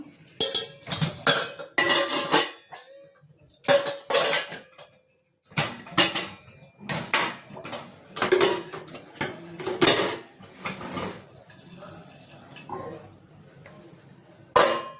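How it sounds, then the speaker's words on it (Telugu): Washed dishes and utensils clatter and clink steadily as they are stacked and put away after scrubbing in a home kitchen, with dense bursts of metal-on-metal knocks throughout and a few brief pauses. "గిన్నెలు తోమటం అయిపోయింది కొన్ని ఎక్స్ట్రా ఉన్నాయి అన్నీ ఇంట్లో పెట్టేసుకొని బయట పెట్టేసుకుందాం"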